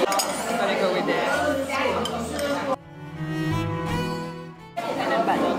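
A metal spoon clinks against dishes while eating spicy vegan food at a restaurant in Taiwan, with bright clatter mixed into busy room noise, then a brief lull with a sustained tonal sound before the clinking returns.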